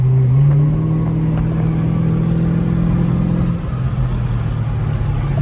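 Dodge Charger SRT8 engine droning while driving in Dallas, a steady low hum from inside the cabin that holds constant for several seconds, easing slightly partway through.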